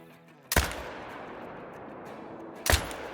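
Two loud rifle shots ring out a couple of seconds apart while hunting an animal in Call of the Wild, each a sharp crack with a reverberating tail, ambient noise between them.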